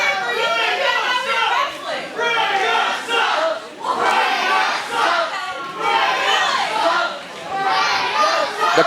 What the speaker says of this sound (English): The crowd letting Freya know how they feel about her.